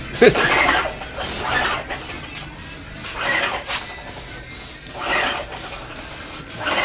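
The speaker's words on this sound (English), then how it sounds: "we're spray painting all this white" Bursts of hissing spray paint come and go in short passes as a wall is sprayed white, close by, with faint background noise between them.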